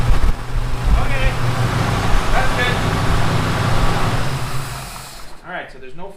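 A mint 4-speed Camaro's engine runs with a freshly installed NX nitrous kit, a loud steady rumble that sags and fades toward the end as it starts to die, with people talking over it.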